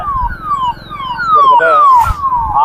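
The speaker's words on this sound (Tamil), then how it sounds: "ஆம்புலன்ஸ் பாருங்கள் முன்னாடி போயிட்டுருக்கு பாருங்கள்" An ambulance siren wails on a road at night near an accident scene, passing close and loud in repeated descending sweeps over a steady rumble of traffic.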